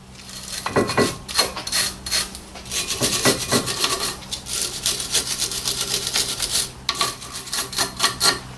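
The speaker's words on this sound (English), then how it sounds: "just using a wire brush here to brush off a little bit of the dust on the sides here" A wire brush scrubs dust off a front brake caliper during a 2012 Nissan Lafesta / Mazda5 pad replacement, giving steady, close scratchy rasping strokes in uneven bursts throughout.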